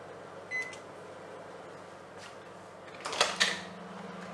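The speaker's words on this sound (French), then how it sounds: "on va régler le four pour 30 secondes" A microwave oven set to 600 watts hums steadily while drying a freshly turned piece of green wood, with a brief beep near the start and a couple of clunks or door-like knocks toward the end.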